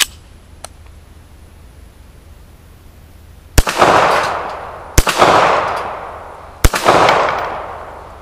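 A Stallard Arms JS 9mm pistol fires outdoors, three sharp loud reports spaced a second or two apart, each followed by a long echoing decay, after a couple of faint clicks.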